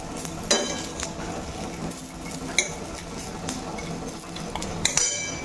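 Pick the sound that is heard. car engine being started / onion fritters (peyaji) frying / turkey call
onion fritters (peyaji) frying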